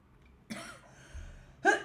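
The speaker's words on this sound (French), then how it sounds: "J'en ai marre de tousser" A couple of coughs, close and fairly soft, separated by a short pause, with a quick louder burst at the end.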